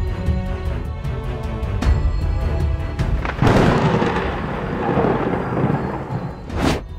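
Thunder rolling through a storm, a broad rumbling swell building midway and holding loud, with a sharp crack near the end, over a steady wash of rain; no voices.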